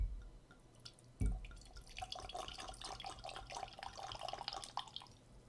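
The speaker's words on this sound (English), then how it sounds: "I'm going to pour close to the glass here." Red Malbec wine poured close into a glass, a steady liquid trickle and splash running for several seconds after a brief thump, with no talking.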